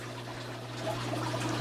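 Water spilling steadily down a home aquarium tank's waterfall built from spray foam and wood, a close, continuous trickling and splashing with a low hum underneath.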